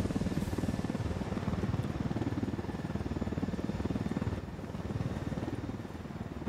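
A game helicopter in Ghost Recon Wildlands thumps loudly and steadily throughout, its rapid rotor beat pulsing over a constant engine roar and holding close and unbroken.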